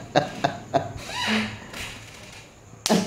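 A man coughs three times in quick, sharp bursts, follows with a strained throat sound, and coughs once more after a short pause, all close to the microphone.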